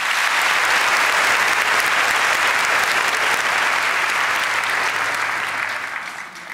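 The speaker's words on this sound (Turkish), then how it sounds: "Alkışlıyoruz bu dörtlüyü." Sustained applause from a large audience at a televised talent show, loud and even for several seconds before tapering off.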